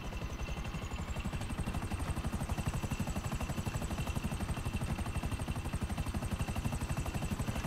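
A helicopter flying in GTA5 Online, its rotor thumping in a fast, even beat over a steady engine whine, loud and close throughout with no talk.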